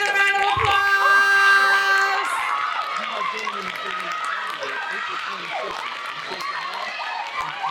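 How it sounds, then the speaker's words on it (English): A school contest audience applauds and cheers for 7th and 8th graders, a diffuse crowd wash of clapping and voices in a hall following a brief musical tone at the start. "Let's give our 7th and 8th graders a round of applause."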